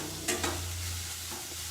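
Vegetables sizzle and are stirred in ghee for a khichdi tempering, with a couple of scraping stir strokes over a steady low frying hiss.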